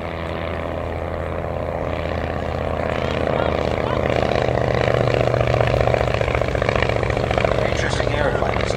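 A vintage Southern Martlet propeller aircraft, designed by F.G. Miles, flies at the Shuttleworth air show at Old Warden, its engine a steady throbbing drone that swells louder midway as it passes, with a commentator talking over it.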